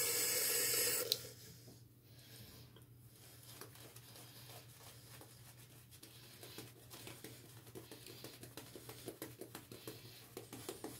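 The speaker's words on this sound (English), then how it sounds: "Add a little more water to the brush." Tap water runs steadily onto a shaving brush, a soft continuous patter and trickle that follows a brief louder gush of water at the start.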